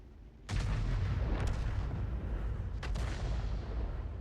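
Artillery fire from an M53/M55 self-propelled gun in a tank video game: a loud, sudden boom that settles into a sustained low rumble, with two sharper crack-like reports following about a second apart.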